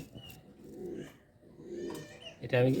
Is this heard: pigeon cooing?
yes